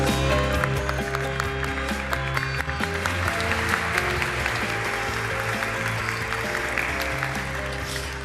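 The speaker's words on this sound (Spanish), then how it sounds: "Pedimos por favor un aplauso para recibirla" An audience at the Congreso Futuro 2018 conference applauds to welcome a speaker onto the stage, giving loud, dense, sustained clapping with a faint musical bed beneath and no talking.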